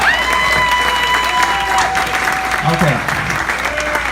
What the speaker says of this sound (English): You already gave them a round of applause, but how about one more for Dolores and Paul?